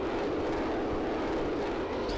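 Steady jet engine roar of a Vought A-7 Corsair II in Flight Simulator X, a continuous loud broadband rumble held at an even level throughout with no speech.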